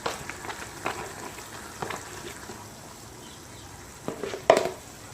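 Chickpea flour is spooned into a frying pan of zhunka and stirred, with soft scraping and a low sizzle, a few gentle spoon knocks and a louder clink near the end.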